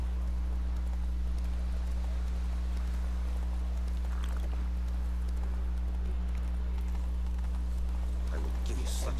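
Rhythmic clip-clop of horse hooves trotting steadily in the video game The Witcher 3: Wild Hunt, over a constant low hum, with a voice talking over it.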